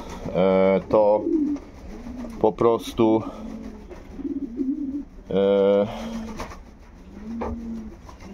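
Pigeons coo in a loft in several deep, throaty bursts, close and fairly loud, while someone talks between and over them.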